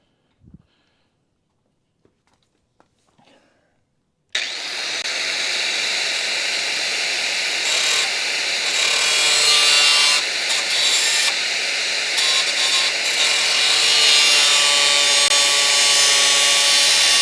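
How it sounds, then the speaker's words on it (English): A grinding wheel cuts in abruptly on a Dodge Charger restoration after a few faint clicks and knocks, then holds a loud, harsh, continuous high-pitched roar with slight wavering as it bites into the metal. "we're going to use the grinding wheel, and the grinding wheel is absurdly loud"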